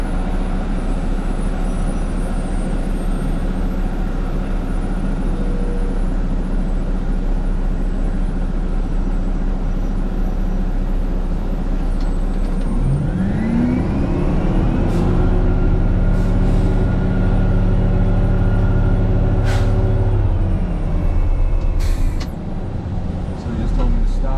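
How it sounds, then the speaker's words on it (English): A loaded dump truck rolls past a road paver on an East Coast paving job, its engine rising from a steady roar to a louder, closer rumble with shifting tones as it comes alongside, over continuous heavy machinery drone. "Truck's coming by."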